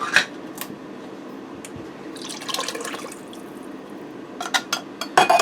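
Canned French onion soup pours into an Instant Pot with a wet glug and splash near the middle, framed by clinks and drips against the metal, close to the mic and without talk.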